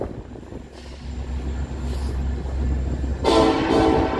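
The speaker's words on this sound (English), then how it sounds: "there's the tooting the horn there. Sounds like the metro train's pulling right underneath us here" A Chicago metro train rumbles past close by with a steady low roar, then its horn sounds loudly near the end over the continuing rail noise.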